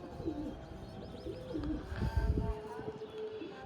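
A pigeon coos in soft, repeated low throaty calls nearby, with rustling and a few higher chirps in the background.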